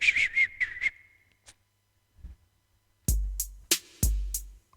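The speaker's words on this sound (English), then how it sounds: "Sort of whistling." A few short, high whistled notes in quick succession, then silence broken by sharp clicks and heavy thumping hits.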